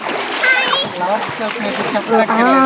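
People and children walk through water at the Penchal Kona beauty spot, with close, repeated splashing under constant overlapping chatter and children's voices.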